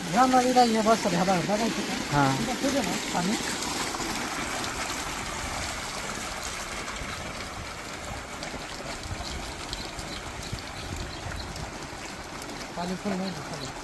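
Water gushes and splashes steadily from a motor-fed hose with a nozzle, a continuous running flow with a person talking over it at the start and end.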